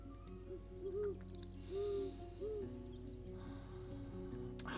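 Great Horned Owl hoots from a bird-themed board video game: a few soft, low hoots in separate bursts sit over a steady musical background, with no talk.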